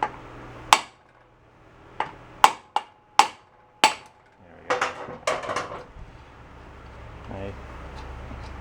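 Metal tapping and prying on a mini bike engine with no spark, working a part loose after its nut was removed: about ten sharp, close knocks in an uneven rhythm, followed by duller scraping and shifting of metal.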